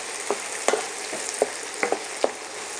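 Onions sautéing in a pan for pancit lusay are stirred, giving a few distinct scraping spoon strokes spaced irregularly over a soft, steady sizzle, close and fairly quiet with no talking.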